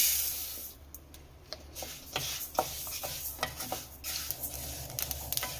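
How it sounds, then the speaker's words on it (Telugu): Flax seeds dry-roasting in a pan for an immunity-boosting urad dal laddu, with soft scraping stirs and scattered small clicks and pops over a low background hiss, no talking. "ఇప్పుడు అవిసె గింజలు వేసుకొని వేయించుకుందాం"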